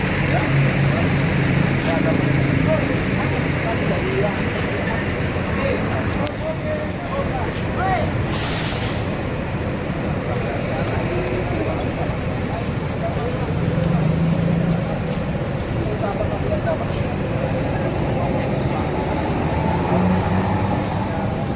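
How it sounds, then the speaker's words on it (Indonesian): An ANS bus pulls away from a village terminal, its steady engine and road rumble running through the whole stretch while people talk over it. "Ya, akan dilanjut lagi pemberangkatannya bis ANS."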